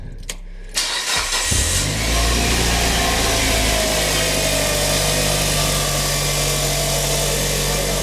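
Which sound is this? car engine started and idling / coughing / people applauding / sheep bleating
car engine started and idling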